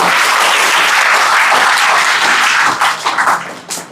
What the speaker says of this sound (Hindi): तो ताली बजा दो भाई, एक बार ताली बजा दो